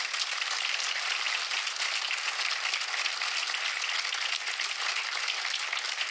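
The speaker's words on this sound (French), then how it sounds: "Ah, on peut les applaudir très fort." Award winners at a regional authorities trophy ceremony receive a steady wash of audience clapping, even and sustained from start to end, heard alone without voices.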